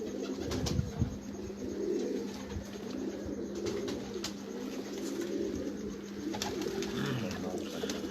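Pigeons cooing steadily on a rooftop, a low repeated coo rolling on through the whole stretch with faint chirps and a constant hum behind it.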